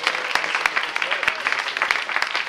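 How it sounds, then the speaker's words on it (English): Audience applause at a stand-up comedy show fills the room with steady, dense clapping, close and fairly loud, with a few sharper claps standing out and no talking over it. "Clap it up for them."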